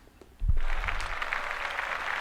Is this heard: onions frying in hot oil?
no